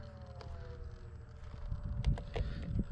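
An electric Waco biplane model with a 4S battery taxis on the ground, a faint whine and low rumble of its motor over breezy outdoor noise with a few light bumps.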